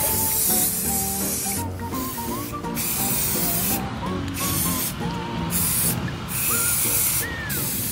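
Continuous hissing of spray paint close by, sprayed for hydro-dipping a skateboard, running almost without a break for the whole stretch, with short pauses and bursts.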